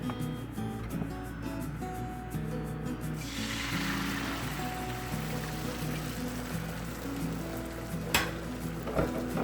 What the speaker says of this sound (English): Once the eggs are finished scrambling